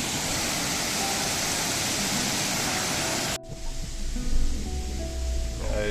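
A waterfall roars in a loud, dense, steady rush for over three seconds, then cuts abruptly to a much quieter outdoor scene where the falling water is faint and distant.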